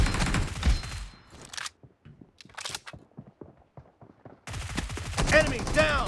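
Rapid bursts of gunfire in the PUBG Mobile team deathmatch game: a dense volley opens, then sparse, sharp single shots crack at irregular intervals before another loud flurry closes the stretch.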